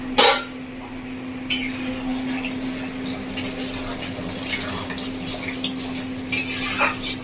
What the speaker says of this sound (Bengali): ভালো করে একদম নাড়িয়ে নিয়েছি।